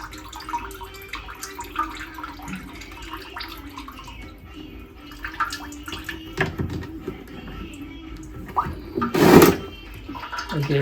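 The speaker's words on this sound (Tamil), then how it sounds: "ஸோ அவுட்லெட்டில் தண்ணி வருது" Water trickling and gurgling from the outlet of an RO water purifier under repair, a soft continuous bubbling flow with a louder splashing burst near the end.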